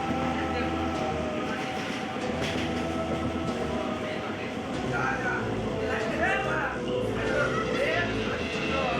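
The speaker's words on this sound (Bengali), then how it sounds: "পাশ দিয়ে এখন একটা এক্সপ্রেস পাস হবে" An express train rushes past alongside, a steady loud rumble and rattle of rail cars close by, with people talking over it.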